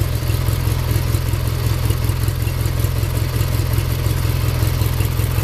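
A vehicle engine idles steadily and loudly nearby, a constant low rumble with a rapid, even pulsing and faint whirring clatter, with no talk over it.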